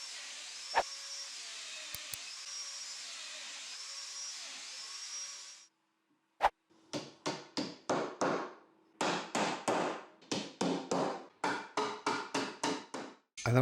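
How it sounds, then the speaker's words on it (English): A high-pitched power tool whines steadily for several seconds while cutting 8mm domino mortises in dining table extension boards, then falls silent before a run of rhythmic wooden tapping and knocking as the dominoes are driven into place. "To keep all the boards aligned, I'm going to add some 8mm dominoes."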